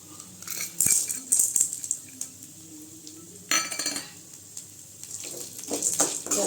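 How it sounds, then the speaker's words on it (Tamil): Chana dal, urad dal and toor dal are roasted in a pan for curry leaf rice, with bursts of rattling, scraping stirring and metallic clinks over a quiet background. "இதெல்லாம் சேர்த்து நல்லா பொன்னிறமாக வரைக்கும் வறுத்துக்கலாங்க."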